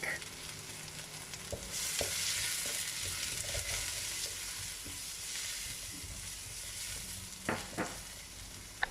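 Garlic sizzling in a pan for a quick vegetarian ramen, a continuous close frying hiss that swells as the garlic hits the oil, with a few stirring knocks and clinks scattered through.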